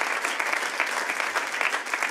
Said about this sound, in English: Can you give the Lord a hand clap of praise?